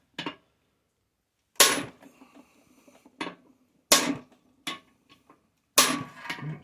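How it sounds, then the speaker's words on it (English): A hammer strikes a manual impact driver seated on a stubborn rusted screw, several sharp metallic whacks separated by short silences, close and loud with brief ringing after each hit. "I hit it to tighten it up just a little bit."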